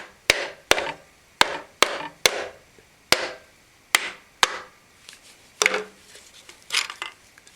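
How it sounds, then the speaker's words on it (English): The handle of a leather mallet tapping a piston, about a dozen sharp, close knocks with short decays, irregularly spaced and quickening then spreading out, with no talk. "Leather mallet. I'm going to use the handle on it."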